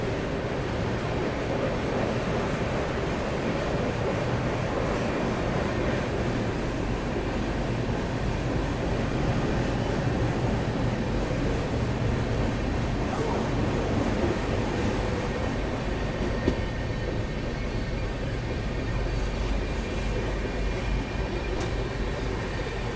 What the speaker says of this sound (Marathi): चांगली स्पीड पकडलेली आहे ट्रेननी.